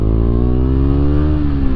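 KTM Duke 250 motorcycle engine running rough and jerking on very low oil, a loud, close, continuous buzzing drone with a slight rise and wavering pitch.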